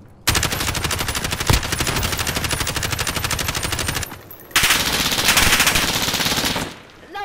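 Rapid automatic gunfire in Call of Duty: Modern Warfare rattles in long, loud, close bursts, breaking off briefly before a second sustained burst and then fading.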